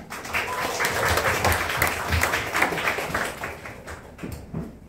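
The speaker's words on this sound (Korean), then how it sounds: "이거는 박수를 쳐드릴 수밖에 없어요" Audience applauding after a long constitutional preamble is read aloud, a rolling patter of many hands that swells and then thins toward the end, with a few louder claps standing out.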